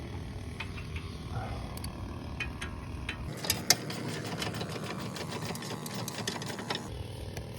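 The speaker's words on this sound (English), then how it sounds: "First I'm going to tighten each one a little bit so nothing's too loose" A ratchet wrench tightens the rear brake caliper bolts on a 2017 Nissan Murano, producing rapid, close mechanical clicking that grows denser and louder partway through, with a couple of sharper metallic knocks.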